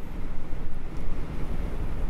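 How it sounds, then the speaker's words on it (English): Strong gusty wind buffets the microphone on a morning ocean shore, a steady low roar of about 23 mph with gusts to 32, with waves rolling in beneath it and no talking. "the wind is howling"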